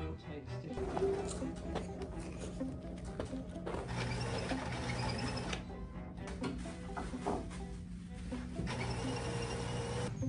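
A sewing machine stitching stretchy material, running continuously with a steady mechanical whir and rattle throughout, moderately loud with no pauses.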